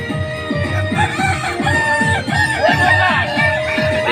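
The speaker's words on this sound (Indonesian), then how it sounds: "Ini adalah ayam-ayam yang gacor-gacor ya, ayam-ayam yang rajin berkokok." Several Kukuak Balenggek roosters crow in the final round of a crowing contest in Padang, long drawn-out calls overlapping one another over a steady crowd murmur.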